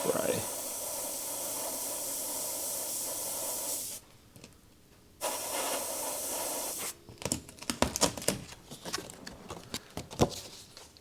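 An airbrush sprays paint to render bullet holes, giving a steady close hiss that stops briefly, resumes, then breaks into short sputtering bursts toward the end.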